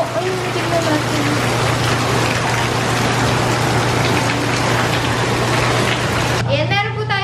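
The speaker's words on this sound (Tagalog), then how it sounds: "ang lakas ng ulan! Bumabagyo na!" Heavy storm rain pours steadily and loudly on a rural farm area, a continuous dense roar with a low hum underneath, and a voice briefly rises near the end.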